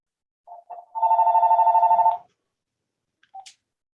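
A telephone rings nearby: two short chirps, then one sustained trilling ring about a second long, followed by a brief faint electronic blip.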